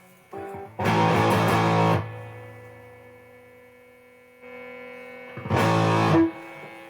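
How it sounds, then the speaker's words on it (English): Electric guitar played through a Pink Heavy Metal distortion pedal at a livestream concert for a black metal song: two loud, heavily distorted bursts of a second or so each, separated by a low humming amp noise. "I'm plugging in the Pink Heavy Metal distortion pedal"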